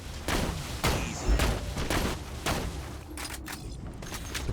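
Gunfire in the Borderlands 2 video game, a run of loud repeated shots and booms in quick succession, close and dense, with no speech.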